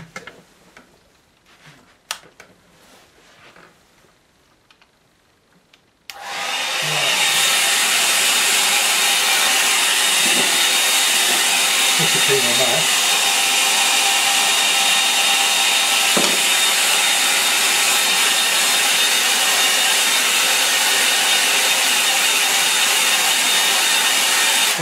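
A hair dryer dries a wet-in-wet watercolour painting. Faint taps and handling come first, then the dryer switches on abruptly and keeps up a loud, steady roaring whoosh for the rest of the clip.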